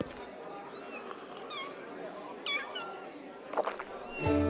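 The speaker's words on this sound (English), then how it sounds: "Anyone hear a cat?" A cat meows in the fantasy video game Pathfinder: Wrath of the Righteous, several short plaintive meows spaced over a quiet ambient background, with a brief louder sound at the end.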